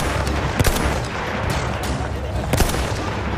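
Gunfire in the video game Battlefield 1: a dense, continuous battle roar with sharp, loud shots standing out near the start and again near the end.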